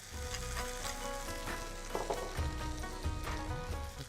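Chopped onion and tomatoes frying in a hot pan with green chillies, a steady crackling sizzle with small pops and stirring clinks, close and continuous.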